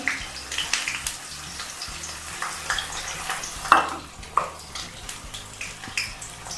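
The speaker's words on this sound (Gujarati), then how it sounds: "મેં કઢાઈમાં તેલ ગરમ કરી લીધું છે તેમાં ડુંગળી નાખીશું કેપ્સિકમ" Onion and capsicum tossed into hot oil in a kadai for hakka noodles, a close, wet crackling sizzle with repeated spatula stirs and clinks throughout.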